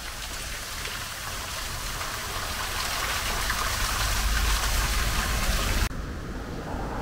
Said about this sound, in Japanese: 不動の滝